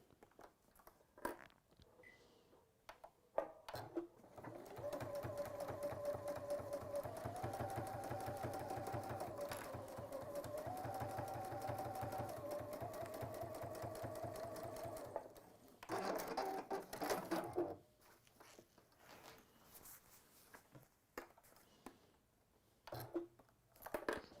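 A sewing machine running a long basting stitch down the sides of a piece, a steady mechanical whirr lasting about twelve seconds, then a brief second run, with quiet handling sounds before and after.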